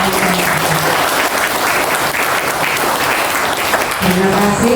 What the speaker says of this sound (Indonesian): saya mohon tepuk tangan untuk masyarakat